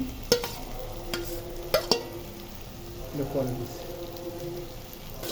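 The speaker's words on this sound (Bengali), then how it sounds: "ভাজা করে নিচ্ছি এবার একটু করে মিশিয়ে নেবো" Food fries and is stirred in a pan, a low sizzle broken by sharp clanks of a utensil against the metal, with a voice talking over it.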